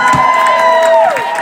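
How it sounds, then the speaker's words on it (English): A loud crowd cheers, whoops and applauds for guitarists John and Johan at a stage show entertaining troops, the roar sustained and dense throughout. "Can we give them a massive round of applause, ladies?"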